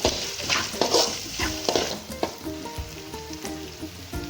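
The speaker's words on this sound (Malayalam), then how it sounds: "ക്യാരറ്റ്, പച്ചമുളക് നന്നായി ഒന്ന് വഴറ്റിയെടുക്കണം" Carrot, beans and green chilli sautéing in hot oil in a pan, a close, steady sizzle broken by repeated scraping stirs of a spoon against the metal.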